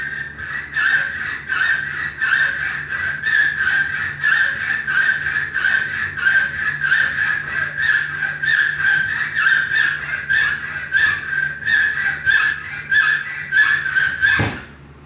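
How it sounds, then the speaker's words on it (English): Hacksaw cutting through a bicycle cable, a steady rapid back-and-forth rasping of many strokes, close and fairly loud, ending in a short sharp clunk, with no talk. "taking a simple hacksaw, we're going to hacksaw one side out of this."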